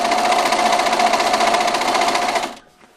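A sewing machine stitching quilt binding runs at a steady fast whirring buzz for about two and a half seconds close up, then stops abruptly into near silence.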